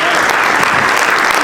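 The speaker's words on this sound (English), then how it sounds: "I'd like to give them a current round of applause" Loud, dense applause from a crowd at a mosque community celebration honoring its leadership, continuous and close throughout the brief moment.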